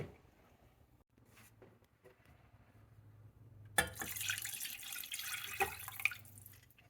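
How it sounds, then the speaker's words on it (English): Water pours into a pot over bone-in chicken breast, quiet trickles and drips at first, then a louder, steady splashing fill that swells in the second half. "get some water, and fill it just enough to cover it"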